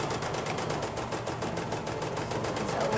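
Sewing machine stitching appliqué fabric, a fast steady mechanical whir with a rapid even needle rhythm running loud and close, alone and unbroken throughout.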